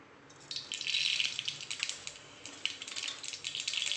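Mustard seeds crackle and splutter in hot oil, a dense, close run of sharp pops that keeps going without a pause.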